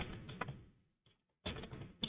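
Keys clatter on a computer keyboard as a web address is typed, quiet bursts of rapid clicks with a short pause between them.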